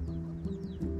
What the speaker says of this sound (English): Baby chickens, look at the baby chickens.